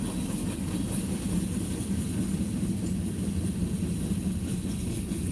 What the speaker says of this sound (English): They're enjoying seeing the train go by.